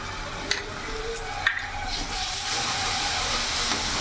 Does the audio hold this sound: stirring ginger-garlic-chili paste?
yes